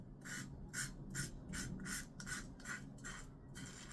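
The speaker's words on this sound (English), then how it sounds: "Almost talked when I was shaving under my neck." A safety-style razor scrapes two days of stubble under the neck in short, rhythmic rasping strokes, about nine close, crisp passes with brief pauses between them and no talking.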